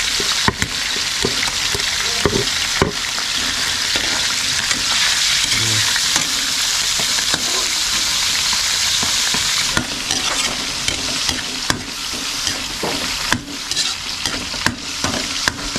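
Meat and onions sizzle and fry in a pan for adobong kangkong, with steady loud crackling and repeated stirring scrapes throughout.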